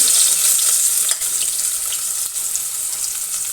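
Chopped onions hit hot oil in a pan with a loud, bright, continuous hiss that dips slightly partway through and keeps going steadily, close by and without voices.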